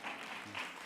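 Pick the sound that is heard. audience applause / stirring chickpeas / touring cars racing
audience applause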